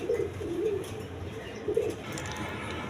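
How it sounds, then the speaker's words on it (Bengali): Two khaki-necked female pigeons sitting on eggs at a breeding farm coo softly in a few low, rolling phrases, close by with faint ambient noise and no talking. "এখানে দুইটা মাদি কবুতর আছে, খাকি গলা দুইটা মাদি"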